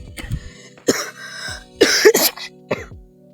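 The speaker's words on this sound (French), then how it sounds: "Je viens de tousser." A cluster of close, rough coughs and throat-clearing bursts in a short irregular series, loudest in the middle, with breathy gaps between.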